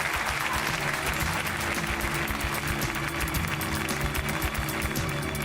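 A television studio audience claps loudly and continuously, a dense, steady roar of applause with rhythmic undertones and a droning tone beneath.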